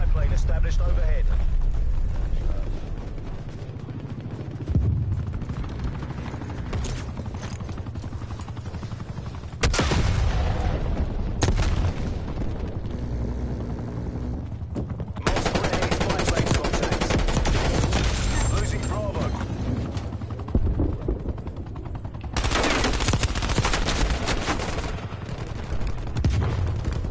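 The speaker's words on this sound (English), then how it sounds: "Incoming artillery. Established overhead." Artillery barrages in the game Call of Duty Black Ops Cold War, with several heavy booming bursts of explosions and gunfire separated by quieter rumbling stretches.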